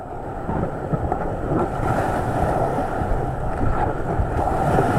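Whitewater rapids on the Upper Gauley River at about 2800 cfs roar steadily as a raft surfs in Helicopter Hole, a loud, continuous rushing wash of churning water with wind buffeting throughout.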